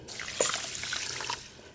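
Water is poured from a cup into a rice cooker already holding two cups of rice, a short close trickling splash lasting under two seconds with no talk.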